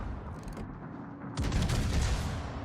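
Naval gun salvos from a warship in World of Warships, a dense rumbling boom that swells sharply partway through and sustains loudly with crackling bursts, with no voices over it.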